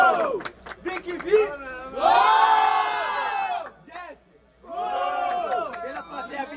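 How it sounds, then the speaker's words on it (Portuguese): A crowd at a student freestyle rap battle semifinal in Brazil erupts in loud, excited shouting and whooping in two big bursts separated by a short lull, close and raucous. "Muito barulho pra cima de Jesp"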